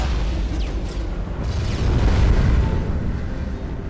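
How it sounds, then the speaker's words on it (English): A massive explosion with a fireball staged for a film scene at the Brach's candy building, playing Gotham City Hospital: a sustained, loud, rumbling roar that swells midway and then trails off, with no speech. "There's this massive explosion and this fireball."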